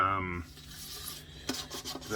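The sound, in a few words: sanding violin during retouching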